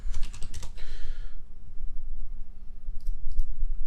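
Fast typing on a computer keyboard at a desk while setting up a streaming chat, a close rapid clatter of keys at the start, then a quiet pause and a couple of short later taps over a constant low hum.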